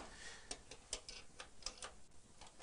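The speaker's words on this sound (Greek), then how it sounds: "Εδώ ακούτε και τον ήχο του κλειδώματος" A key turns through four rotations in the lock of a steel security door, giving a series of sharp, close metallic clicks at a fairly regular pace against a quiet background.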